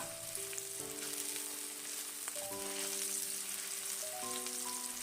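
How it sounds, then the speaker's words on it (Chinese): Ginger slices and chopped scallions stir-frying in hot oil in a wok give a soft, steady sizzle throughout, partly covered by gentle background music with sustained tones. "炒锅中加入一点食用油，油热以后加入姜片和葱花翻炒，炒出它们的香味。"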